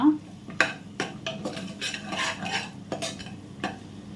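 A spoon scrapes and stirs through thick biryani masala in a pot as turmeric powder is mixed in, making a series of close, rhythmic scraping strokes and soft clacks over a faint sizzle.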